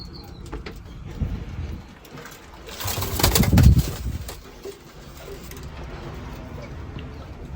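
Domestic pigeons kept in cages in a pigeon loft, some sitting on eggs, coo in low, throaty rolls, swelling into a louder nearby burst midway before settling back to quieter cooing.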